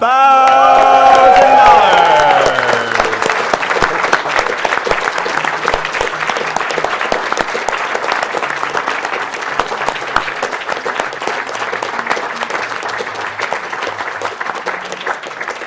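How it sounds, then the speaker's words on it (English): A crowd breaks into loud, sustained applause, dense clapping that slowly thins, with a brief cheering voice at the start. "keep the applause going"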